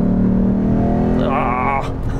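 The engine of a Lexus IS F, a Japanese muscle car, hums steadily from inside the cabin, then rises briefly as it revs up and settles again, with a voice speaking over it.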